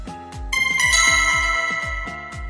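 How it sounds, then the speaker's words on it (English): A phone notification chime plays loudly and alone, a bright multi-tone ringing chord that sustains and rings out over steady repeated low thumps. "Notifications."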